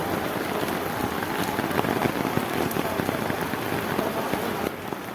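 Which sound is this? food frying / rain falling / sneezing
rain falling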